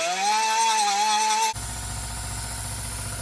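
A power tool cuts the welds on a Kawasaki ZX6R motorcycle exhaust, first a loud high whine with wavering pitch, then dropping to a lower, rougher grinding buzz that continues steadily to the end.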